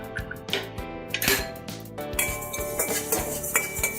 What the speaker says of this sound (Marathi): त्याच कढईमध्ये